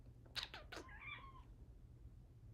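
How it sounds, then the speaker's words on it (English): A house cat gives a short burst of a few quick chirpy meows followed by a longer drawn-out meow, fairly close and quiet over a low background hum. "Hey, BB cat"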